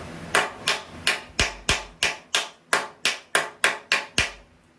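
A wrench strikes the metal frame of a 1979 Ford F150, about a dozen sharp, evenly spaced metallic knocks ringing out close and loud in a steady rhythm.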